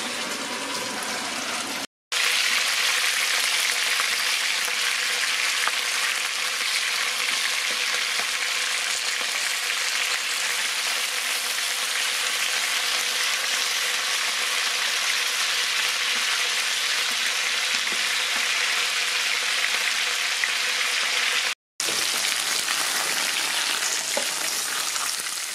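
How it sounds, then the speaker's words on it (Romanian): Carrots and other vegetables sauté in a little oil in a large pot meant for cooking lentils, giving a steady, close, continuous sizzle and crackle with two brief dropouts and no talking. "într-o oală mai mare în care vom găti lintea, am adăugat un pic de ulei și sotăm legumele"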